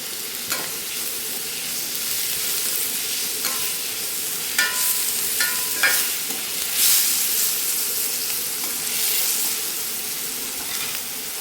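Sliced onions with salt sizzle steadily in an oil-filled pan for an Andhra-style egg and dried fish curry, while a spoon stirs and scrapes in several brief clatters, loud and close.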